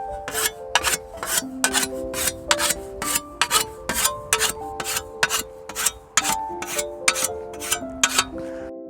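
A whetstone hones a scythe blade outdoors in a quick series of bright, ringing metallic strokes, about two per second, alternating sides, each leaving a short, pitched ring.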